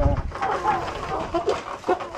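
Chickens cluck in short, uneven bursts close by on a farm, with some faint background voices and rustling.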